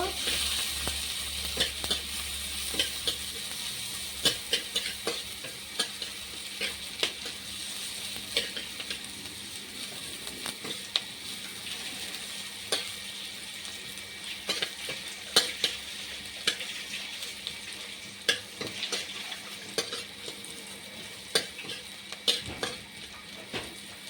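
Chopped onion fries for a rohu fish curry with potato and vegetable stalks, giving a soft continuous sizzle. Frequent spatula clicks and scrapes against the pan run throughout, close and fairly quiet, with no talking.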